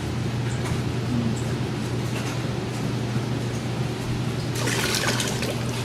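Liquid is poured into a hanging bag, making a continuous soft trickle over a low background hum, with a brighter splashing surge toward the end.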